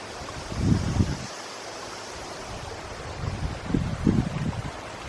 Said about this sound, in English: It's the sound of water hitting a rock.